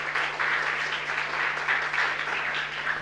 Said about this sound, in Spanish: fuerte aplauso entonces para Ian